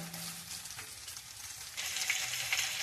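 Chicken sizzles and fries in a pan as masala spice is sprinkled in for a curry, a steady crackling hiss that swells louder partway through.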